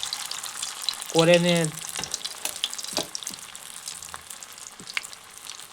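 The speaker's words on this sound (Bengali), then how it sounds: "এরপর এগুলি এক একটি পকোড়ার মতো করে ছেড়ে দেব, দিয়ে ভালো করে ভেজে নেব।" Bread pakoras deep-fry in hot oil in a wok, a continuous bubbling sizzle running throughout, briefly overlapped by a short spoken word and a few light clicks.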